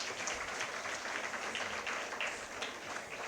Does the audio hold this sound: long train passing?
no